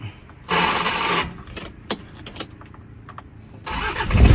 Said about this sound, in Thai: นี่ตึ้งตึ้งเลยนะครับสตาร์ทเครื่องแล้วนะครับ